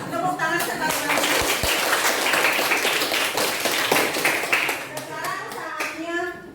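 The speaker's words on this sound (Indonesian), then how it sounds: "Tepuk tangan sekali lagi." Children in a classroom clap together in a steady burst of applause, loud and close, with young voices calling out over the clapping before it thins out toward the end.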